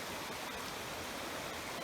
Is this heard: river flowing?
yes